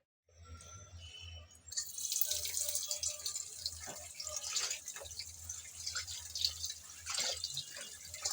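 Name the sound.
washing chopped bathua greens in water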